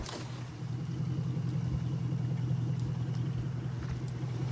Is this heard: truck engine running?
yes